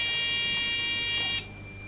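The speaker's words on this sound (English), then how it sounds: "You do so by ringing your bell." A quiz contestant's bell or buzzer at a Ghanaian school science and math quiz sounds as a single sustained electronic tone, loud and steady for over a second before cutting off.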